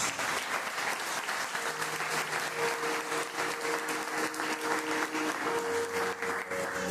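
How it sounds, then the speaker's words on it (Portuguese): A church congregation at a Holy Communion service claps together in steady, sustained applause for several seconds, with faint held musical tones underneath. "você pode aplaudir o Senhor com as palmas"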